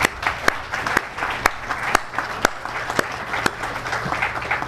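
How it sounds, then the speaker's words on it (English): At an awards ceremony, an audience applauds the judges with a moderate spread of clapping, punctuated by several sharp, distinct claps standing out near the microphone at a roughly regular beat. "Please give our judges a round of applause, ladies and gentlemen"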